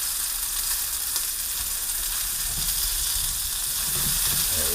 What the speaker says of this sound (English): Alright, so they are browning.